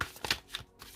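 Tarot cards being shuffled and cut, a brief close series of soft papery flicks and taps, quiet, lasting about a second.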